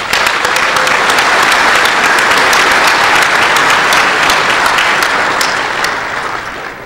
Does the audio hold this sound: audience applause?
yes